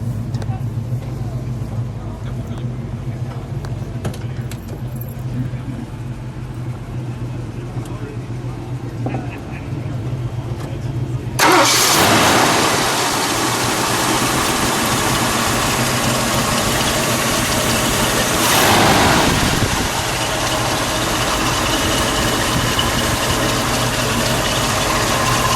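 A 1972 Ford Mustang Sprint with a 351 engine sits quiet under a low hum, then cranks and fires abruptly, settling into a loud, steady idle with a brief rev swell partway through.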